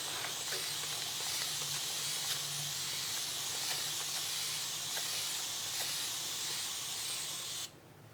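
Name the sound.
steam hissing while heating with water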